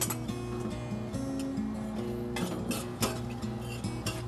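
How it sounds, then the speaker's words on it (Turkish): Potatoes mixed with meat in a pan for çökertme: a spoon scrapes and clinks against the pan in irregular stirring strokes, close and moderately loud, with a faint hum underneath. "şu an patatesi harmanlıyoruz etle birlikte"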